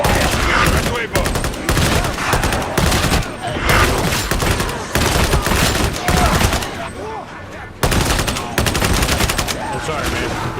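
Rapid bursts of video game gunfire, a near-continuous volley of automatic shots with brief gaps, loud and close throughout, with faint voices at times.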